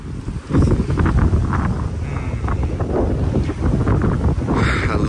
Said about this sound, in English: I love this wind.